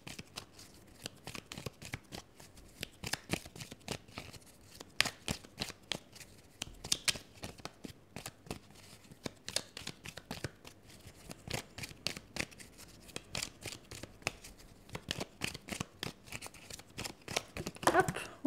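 Tarot cards being shuffled by hand, a long run of quick, dry riffling flicks and slaps in irregular bursts, close and fairly quiet.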